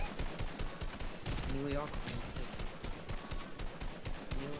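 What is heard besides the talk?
gunfire in a video game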